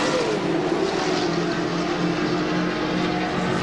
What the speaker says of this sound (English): Alan Jones just trying to fire the car, first time unsuccessful.